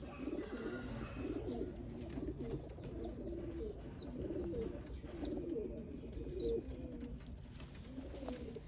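Pigeons coo in soft, repeated low rolls, with occasional higher chirps overhead; a quiet, steady flock sound with no voices.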